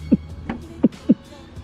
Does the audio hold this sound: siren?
no